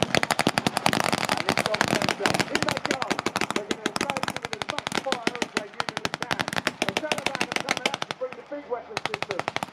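Rapid machine-gun and rifle fire rattles loudly and continuously during a staged military rescue display at a show, long automatic bursts overlapping with sharp single shots, with a voice heard faintly beneath.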